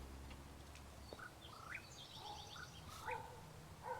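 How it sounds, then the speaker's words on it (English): Blue jay calls in the game Life is Strange, a few short, scattered bird notes over a low ambient background, with no talking. "wo höre ich denn schon wieder den Blue Jay?"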